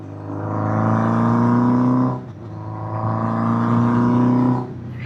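A 1979 Honda CB750F Super Sport four-cylinder motorcycle on the road, its engine revving up through two smooth accelerations with a brief dip between, a close, loud, buzzy drone with no talking.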